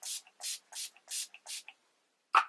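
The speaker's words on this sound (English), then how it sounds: "And now I'm just going to take Urban Decay Chill Setting Spray." Urban Decay Chill setting spray mists onto a face in five short, evenly spaced hissing bursts, close and crisp, followed after a pause by one more brief spritz.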